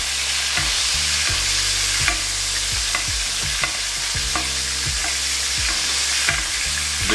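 Steak basted in sizzling butter with garlic and rosemary: a steady close pan sizzle broken by repeated spoon strokes and splashes as butter is ladled over the meat again and again.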